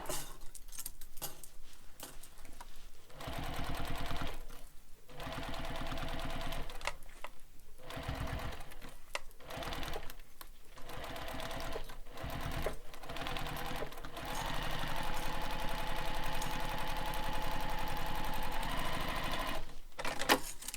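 A sewing machine stitches a Manhattan Bag in short repeated bursts of rapid mechanical whirring, separated by brief pauses, then runs in a longer continuous stretch; close and steady with no talking.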